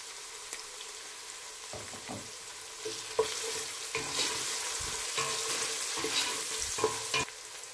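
Onion with salt and turmeric frying in a pan for an Ethiopian cabbage and carrot dish, a continuous close sizzle broken by repeated spoon stirs and scrapes.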